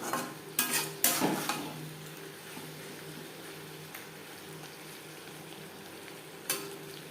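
Bean chorchori frying in a pan on a gas flame, a low steady sizzle with a few sharp scraping stirs of a spoon near the start and one more near the end.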